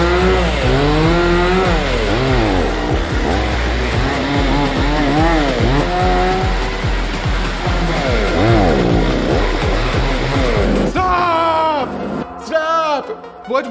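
A chainsaw roars loudly and continuously against bulletproof glass, its engine pitch rising and falling with repeated revs, then cuts out near the end leaving scattered noises.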